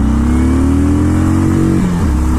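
Motorcycle engine revving hard as it pulls away off the line, a loud steady droning tone climbing in pitch, then a brief dip as it shifts gear near the end.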